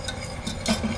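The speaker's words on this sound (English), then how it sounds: "Keep whisking. We want it to mix in really well." A whisk swirls broth into enchilada sauce in a pan, giving a brief run of soft, quick metallic scrapes and light clinks, close and fairly quiet.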